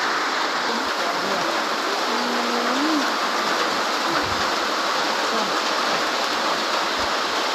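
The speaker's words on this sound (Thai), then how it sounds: "โอ้ยฝนมาอีกแล้วมาอีกแล้ว" Steady rain falls outdoors on a rural farm plot in Thailand, a dense, even hiss that fills the whole stretch at close range, with a faint bird call briefly audible underneath.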